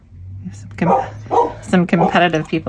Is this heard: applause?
no